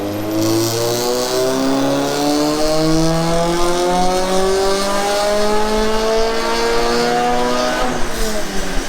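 A loud turbocharged 8.6 car engine revs steadily upward on a dyno, its pitch climbing for several seconds before dropping off, constant and close throughout.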